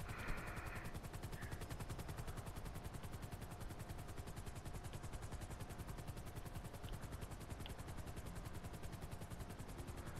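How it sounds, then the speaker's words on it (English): Helicopter in Grand Theft Auto V, a steady dense rotor chop with a rapid rhythmic pulse, loud and continuous throughout with no talk. "It's not the best helicopter, but it's what I can do for a thousand bucks."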